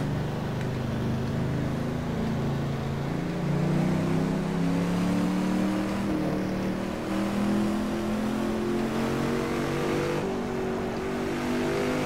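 A Chevrolet Camaro stock car engine roars and revs continuously in the racing game Stock Car 2012, deep and loud, its pitch rising and falling slightly with throttle.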